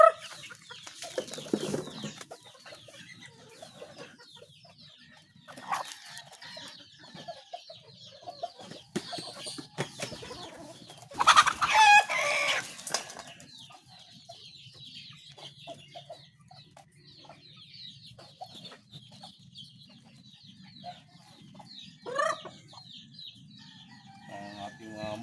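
Hungry farm chickens clucking and squawking in a coop, with a rooster crowing loudly near the middle, intermittent bursts of calls over quiet stretches and a person talking softly at times.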